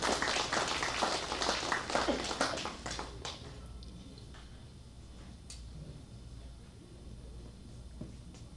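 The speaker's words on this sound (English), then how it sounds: "let's give another round of applause to Gahua and also for Du Feng" A conference audience gives a brief round of applause, dense clapping for about three seconds that thins to a few scattered claps and then fades into quiet room tone.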